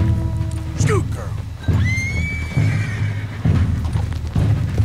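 A horse in Red Dead Redemption 2 gives a loud, close whinny that rises and falls, over hoof clip-clops and low rumbles, with a voice talking alongside.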